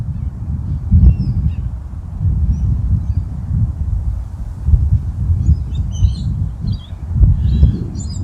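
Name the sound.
birds, wind and water by a river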